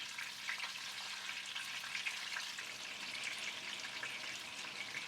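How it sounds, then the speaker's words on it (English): Pieces of cod shallow frying in a pot of hot oil, a soft, continuous crackling sizzle with fine spitting pops, steady and fairly quiet throughout. "We need to shallow fry the fish on each side for around 1 to 2 minutes"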